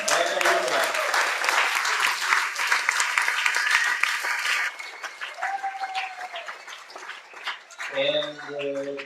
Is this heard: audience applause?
yes